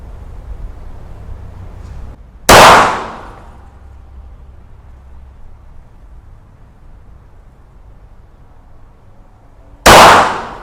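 A gun loaded with Bullet Master rounds is fired at a 10-metre range. Two sharp, loud shots crack about seven seconds apart, each decaying quickly into a quiet background.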